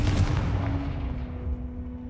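A Confringo blasting spell goes off in a Harry Potter video game: one sharp explosive blast followed by a rumbling tail that fades away, with no talking.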